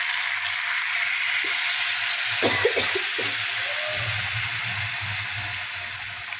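Hot water poured into a pan of fried spice mix with potato and pumpkin, a steady sizzling hiss with brief splashy bubbling bursts near the middle, close and continuous.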